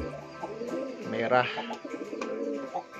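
Javanese Sungut pigeons cooing in soft repeated low calls, with a person talking over them throughout.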